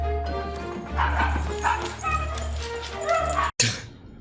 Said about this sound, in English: all these dogs